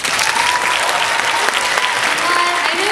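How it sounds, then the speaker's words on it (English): Audience at an Asian cultural show giving the performers a big round of applause, thick continuous clapping with cheering and whistles throughout, loud and close. "Let's give the performers so far a giant round of applause"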